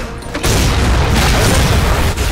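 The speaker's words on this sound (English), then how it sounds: "there's so many explosions!" Loud, dense explosion rumble from the Halo 4 Spartan Ops video game, a sustained roar of booms with no pauses.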